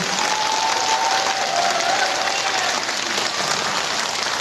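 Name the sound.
audience applause for the staff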